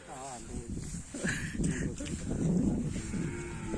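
A racing bull at karapan sapi training moos nearby, a low drawn-out call, while people talk over it outdoors.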